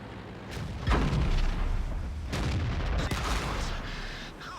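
Heavy tank gun shots and shell impacts in World of Tanks, with a 150mm gun hitting a Sturer Emil tank destroyer. A sharp booming hit lands near the start, followed by another blast and rumbling battle noise throughout.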